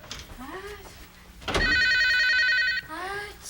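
A landline telephone bell rings in one loud sustained burst at night in a house, with a voice talking before and after the ring.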